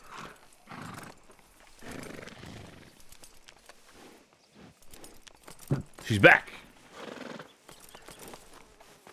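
Red Dead video game horse hooves clip-clop in uneven bursts and a sharp neigh rises partway through, all heard under a man's speech.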